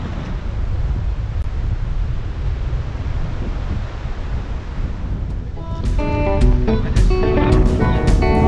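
Strong wind buffets the microphone at a coastal campsite at Blakesleys Anchorage, a loud continuous rumbling roar that grows gustier toward the end, with faint voices underneath.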